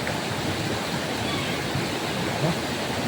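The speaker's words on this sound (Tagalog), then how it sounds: "Hindi siya masyadong marinig bro kasi maingay yung ilog." A noisy river rushing past, a dense, loud, unbroken wash of water noise filling the whole stretch with no pauses.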